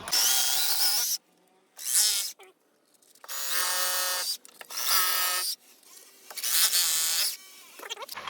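An 8 mm bit in a hammer drill bores into a concrete block wall while a window is being fitted: several loud, high-pitched whining drilling bursts separated by short pauses, close up.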